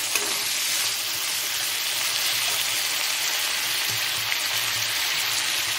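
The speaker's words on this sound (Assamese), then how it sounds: "এইখিনি অলপ জ্বলি যোৱাকৈ ভাজিম" Raw chili, garlic, ginger and onion fry in hot oil for a leaf chutney, giving a steady close sizzle with crackling and light stirring throughout.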